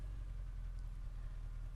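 An old car idles in Gran Turismo Sport, its engine giving a steady, low, continuous rumble that holds an even level throughout with no revving.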